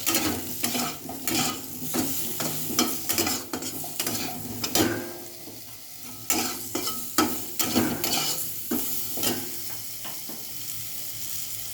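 Green chilies sizzle in hot oil with turmeric while a utensil stirs and scrapes the pan, giving close, busy frying crackle with frequent scraping strokes and no talking.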